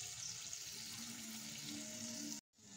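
Mango fritters made with peanuts frying in hot oil, giving a steady, close bubbling sizzle that holds evenly and then cuts off abruptly for a moment near the end before resuming faintly.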